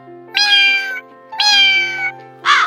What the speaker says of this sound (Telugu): ఏంలే మమ్మీ, పిల్లి వచ్చింది.